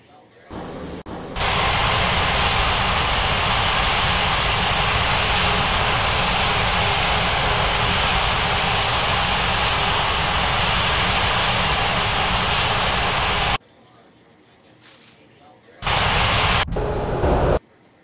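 Airliner taking off at Ngurah Rai Bali International in the Unmatched Air Traffic Control game, a loud, broad, steady engine roar holding for about twelve seconds, cutting off abruptly, then returning briefly near the end.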